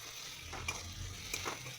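Crushed garlic frying in hot oil, a soft continuous sizzle with two quick stirring scrapes, close and fairly quiet, no talk.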